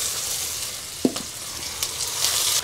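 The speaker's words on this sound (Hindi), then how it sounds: "इनको हमने भून लेना है" Onions frying in a pan for achari aloo biryani, with a steady low sizzle and a couple of brief stirring scrapes, close and even, no talking.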